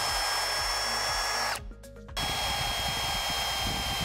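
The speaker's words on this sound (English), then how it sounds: "And then we're gonna drill our pilot holes and screw it in just like we did on the vertical pieces." A power drill drives pilot holes and screws into wood while a studio acoustic diffuser is assembled, a short whining burst of about half a second between steady background hum, close and clear, with no talking.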